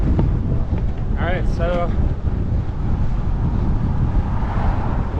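Strong gusty wind buffeting a gravel cyclist on a ride, a loud continuous low roar of rushing air across the microphone, with a rider briefly speaking over it.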